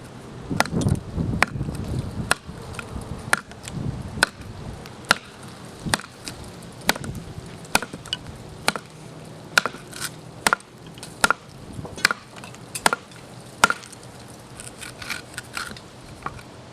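Becker BK3 Tactool knife chopping, a steady series of sharp, evenly spaced blade strikes into wood, close and crisp, with some rustling and clatter between hits.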